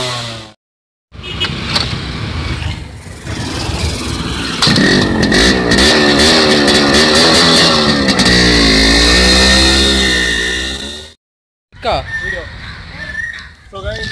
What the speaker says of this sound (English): now I'm riding my most favorite bike, Rx100